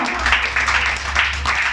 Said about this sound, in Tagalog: Malakas na palakpak para magkising yung katabi mo.